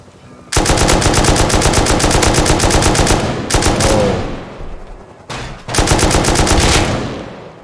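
Rapid automatic gunfire in the survival game Rust, aimed at a Chinook helicopter, comes in loud sustained bursts with brief pauses between them.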